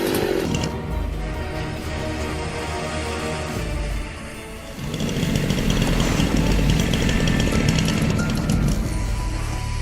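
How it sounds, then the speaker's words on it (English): A chainsaw fitted with an extremely long chain cuts through a tree, its engine droning steadily and loudly throughout, growing heavier and busier partway through as the bar bites deeper into the wood. "This is hands down the longest chainsaw chain I've ever seen."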